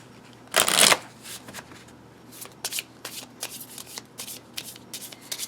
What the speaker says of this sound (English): So you're supposed to go ahead and do your shuffling.